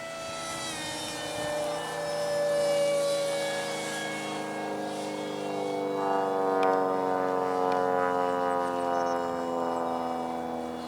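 A large R/C Interceptor propjet model plane flies past at half throttle, a sustained whining engine tone that swells and fades as it circles overhead, heard alone.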